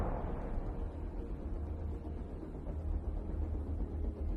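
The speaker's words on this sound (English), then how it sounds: "The Russian tanks explode" Russian tanks exploding in combat, a dense continuous low rumble with a heavy boom at the start, loud and rolling throughout without any voices.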